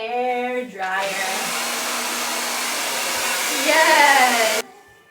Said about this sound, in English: Love the hair dryer.